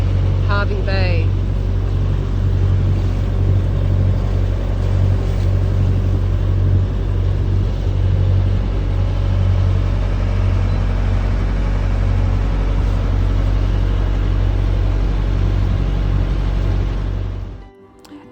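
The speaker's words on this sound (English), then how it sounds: "Motor sailing into Hervey Bay." A sailboat motor-sailing into Hervey Bay under engine power: a loud, steady low motor drone runs continuously with a brief tonal whine near the start, then the sound cuts off abruptly at the end.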